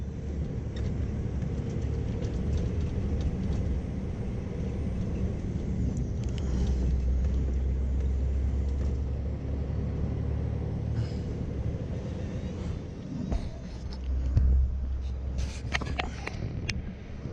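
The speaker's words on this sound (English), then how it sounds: "Terrible trying to get traction with this truck." A truck engine rumbles low and steady while struggling for traction on the road, a loud continuous drone from inside the cab that swells and eases, with a few brief clunks and rattles.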